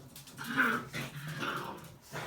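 Dogs growl and whimper nearby in a workshop during a Seiko 6139-6005 Pogue watch service, a short, strained run of rising and falling growls.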